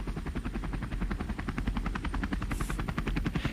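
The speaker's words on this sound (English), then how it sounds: "We climbed aboard the helicopter and were off." An old Sikorsky H-19 helicopter in flight, its rotor beating in a fast, steady chop over a loud, continuous engine drone, close and sustained throughout.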